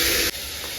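Onions tipped into hot cooking oil give a loud, dense hiss and sizzle for the first moment, then settle into a quieter steady frying sizzle.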